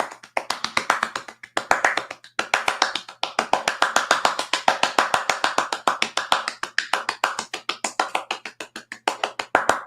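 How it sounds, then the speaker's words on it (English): A roomful of people applauds a quiz-night host named Matt for about ten seconds, with dense, steady clapping and hand taps close up and no talking over it. "That's your 10 seconds applause tonight, Matt"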